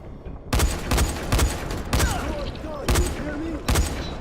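Rapid gunfire bursts from the Dying Light video game on PS4, in the Museum stage: about six sharp, loud volleys spaced roughly half a second to a second apart, with faint whistling effects between them.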